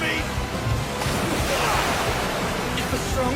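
Anime water effect from My Hero Academia: a steady, broad whoosh of water shoved aside and surging back to the middle, like rough surf, moderately loud with talk underneath.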